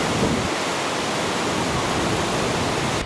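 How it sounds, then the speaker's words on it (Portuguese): A powerful Ugandan waterfall forces a huge volume of water through a narrow gap, giving a dense, steady roar of crashing white water and foam, loud and unbroken from start to finish. "Este cenário só é possível devido ao enorme volume de água que passa numa fenda estreita, criando uma explosão de água branca e espuma"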